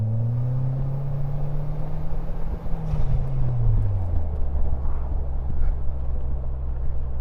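A Rewaco trike with a turbo four-cylinder engine drones along while riding, its engine tone gliding down through a gear change, with heavy wind buffeting over a steady rumble.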